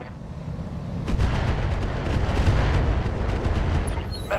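Weapons fire rolls on without a break in the RogueTech video game, a loud, dense stream of booming shots and impacts with no pauses.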